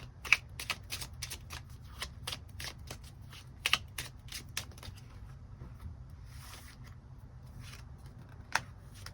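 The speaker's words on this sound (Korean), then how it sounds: "일요일까지 어떤 하루를 보내게 될지 추가 카드 뽑아보도록 하겠습니다." Tarot cards being shuffled and drawn, a quick series of crisp riffling snaps and taps close up, with quieter card handling between, no talk.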